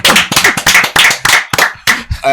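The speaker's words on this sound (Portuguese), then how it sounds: "Salva de palmas para ele." Close, loud hand claps for a guest on a podcast-style show, coming in uneven bursts with short gaps between them, like a small group clapping near the microphone.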